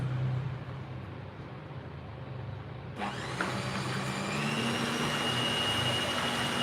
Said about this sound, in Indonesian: Tuh aku mau mixer kue bolu nih guys